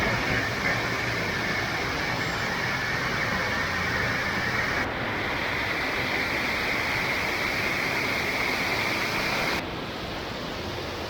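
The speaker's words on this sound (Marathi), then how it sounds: "माझ्या मागे बघतोय तो हा आहे सुप्रसिद्ध चावडावचा धबधबा" Savdav waterfall in Kankavali, Sindhudurg, Konkan, roaring as a loud, constant broadband rush of falling water that carries on without a break.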